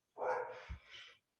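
A single faint, distant dog bark, short and muffled, stands alone against quiet.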